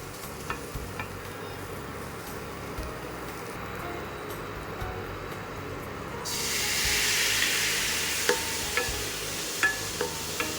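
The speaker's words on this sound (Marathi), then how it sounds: "पाणी टाकल्यानंतर मसाले काय होतात असे भाजतात आणि जळत सुद्धा नाही" Spices with onion and tomato roast in a kadhai with a splash of water and no oil, a faint low bubbling simmer that bursts into a brighter hiss of steam midway, with occasional light clicks of a stirring spoon.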